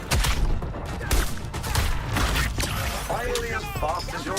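Repeated bursts of grenade explosions and gunfire in the Suicide Squad game, dense and loud throughout, with voices and game dialogue layered over the chaotic blasts.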